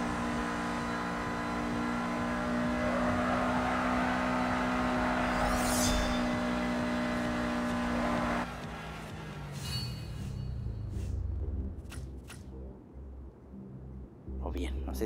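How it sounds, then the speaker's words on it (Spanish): Car engine in the racing game Need For Speed No Limits, a steady loud revving drone with tire squeal while drifting, then dropping to lower rumbling and scattered effects, with a voice talking over it. "Bien, sí, ya estoy derrapando ya."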